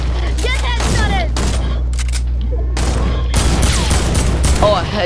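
Gunfire in the video game Fortnite, loud bursts of shots and impacts over a steady low hum, with a player talking excitedly over the action.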